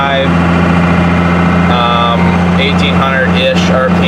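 Cummins diesel pickup truck with a BorgWarner turbo cruising at about 55 mph and around 1800 RPM, a steady low engine drone with a constant hum throughout, while someone talks over it.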